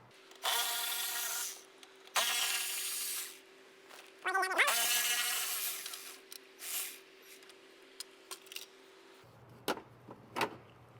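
A power tool whirs in three separate bursts as it backs out 10 mm bolts from the wiper motor of a 1991 Chevrolet OBS truck. The bursts are close and loud, followed by softer clicks and handling noises.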